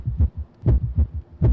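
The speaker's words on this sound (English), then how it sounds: "Was that heartbeats?" Heartbeat effect in a video game, a deep double-thump pulse repeating about every 0.75 seconds, loud and close, with no voices.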